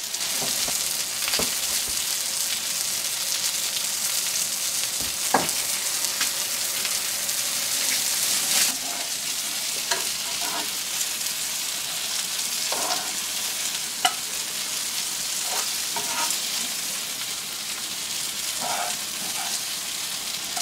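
Asparagus tips cook in butter in a covered pan, a steady crackling sizzle with scattered pops and spits running throughout, close and constant.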